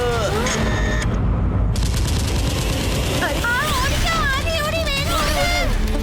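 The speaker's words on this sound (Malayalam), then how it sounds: "ശിവ, എന്തിനാ ഞങ്ങളെ നോക്കി ഫയർ ചെയ്യുന്നേ?" A cartoon weapon fires in an animated action scene, loud rapid bursts of gunfire and booms over dense music and zapping whistling effects, continuous and busy throughout.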